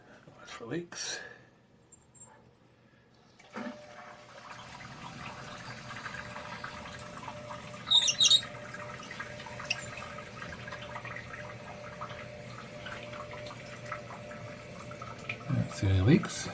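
A toilet tank refilling after the supply valve is reopened, a steady hiss of running water with faint drips, preceded by brief talk and handling noises.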